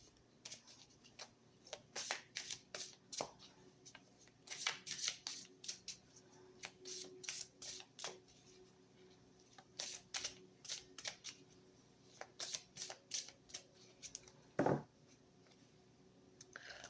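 Oracle cards from the Oracle du voyageur sacré deck being shuffled by hand: irregular bursts of crisp, papery flicks and snaps, close and fairly quiet, with one heavier thump near the end and no speech.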